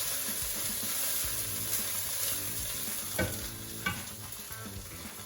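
Risotto cooks gently in broth in a pan, a soft continuous sizzling bubble with a couple of stirring knocks, close and steady with no one speaking.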